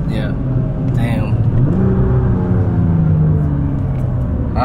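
A Nissan GT-R R35 on a test drive, its engine and transmission droning from inside the cabin with a tone that climbs as the car pulls, while muffled voices talk over it.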